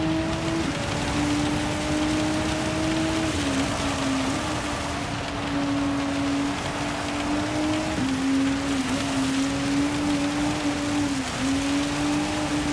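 Rain in Gran Turismo 7 during a race at Spa: a constant loud rain hiss over a steady droning engine tone that rises and dips with gear changes, no talk.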